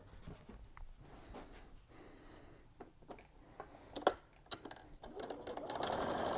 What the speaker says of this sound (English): So let's sew that on for you.